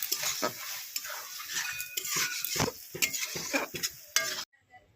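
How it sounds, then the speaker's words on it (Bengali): A spoon stirs pea greens cooked with snakehead fish and a little sugar in a pot, close scraping and clinking strokes in a quick irregular rhythm with a soft sizzle beneath, cutting off abruptly at the end. "চিনি দিয়ে নাড়িয়ে চাড়িয়ে নামিয়ে দেবো"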